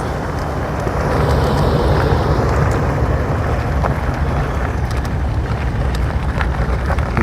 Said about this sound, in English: There's an engine on.